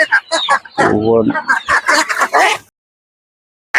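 Native ducks kept in a cage at a poultry seller in Kayamkulam, quacking and clucking in short bursts under and between people talking nearby, then a brief pause before the calls resume.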